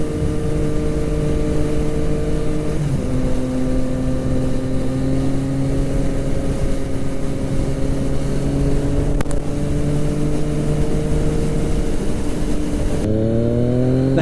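A 2016 Yamaha FZ/MT-09 motorcycle drones loudly and steadily while being ridden, its engine pitch dropping with a gear change early on and again near the end, with wind rush all along.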